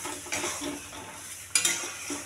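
Potatoes for aloo dum sautéed in hot oil with Kashmiri red chilli: a steady close sizzle and frying hiss with rhythmic scraping stirs of a spoon against the pan, one sharper scrape standing out, no talk.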